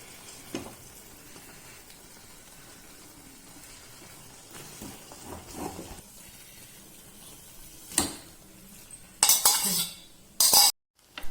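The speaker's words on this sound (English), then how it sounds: "So now I'll just smash the potato and add it" A boiled potato is mashed into a pan with Pav Bhaji masala for pav bhaji Maggi noodles: soft, quiet scraping and pressing, followed by a few sharper clinks of utensil against metal near the end.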